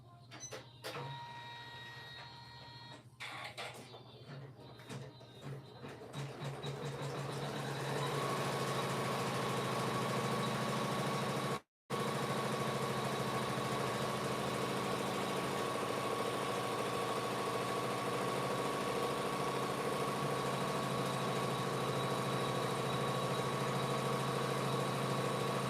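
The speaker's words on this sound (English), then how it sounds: "now I'm going to sew this again, and I'm going to place my vinyl over the top." A home embroidery machine sews vinyl held in the hoop, starting with irregular stitching clatter and then settling into a steady, loud mechanical hum and rapid needle chatter that runs on continuously, broken only by one very brief stop.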